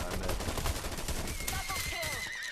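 Shotgun fire in a riding battle video game, dense booming blasts over a continuous noisy game mix, with explosive bursts throughout.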